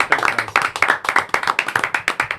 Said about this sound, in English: Let's clap it up for Barry.